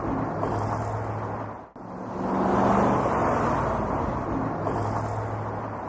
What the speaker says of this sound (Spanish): Tráfico urbano, 80 decibeles.